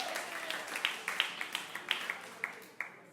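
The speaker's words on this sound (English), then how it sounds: "Applause for whoever's watching this in a recording." Scattered hand claps from a small audience at an evening storytelling event in Bremerton, Washington, a dozen or so sharp, uneven claps over a few seconds, fairly faint and without talk.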